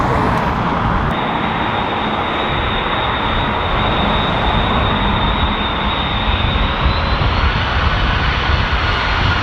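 A powerful aircraft engine roars continuously during a go-around at Dublin Airport in strong winds, loud and near, holding a steady high whine over a broad rumble with no speech.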